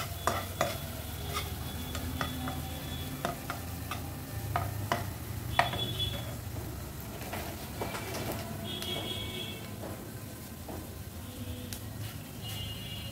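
A spatula stirs sugar-seasoned vegetarian Maggi noodles in a frying pan, with repeated close scraping and clicking over a continuous low sizzle. No one speaks.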